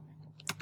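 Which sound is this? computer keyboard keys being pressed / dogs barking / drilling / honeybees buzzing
computer keyboard keys being pressed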